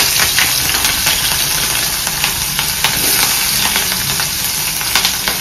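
Green chilies and onion hit hot oil in a small wok, setting off a loud, steady crackling sizzle that continues unbroken and close throughout.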